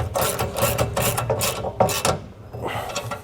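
A nylock nut is tightened onto a bolt of a Lippert JT's Strong Arm jack stabilizer kit on a 2022 Jayco Jay Feather trailer, a close run of rapid ratcheting clicks in bursts with short pauses.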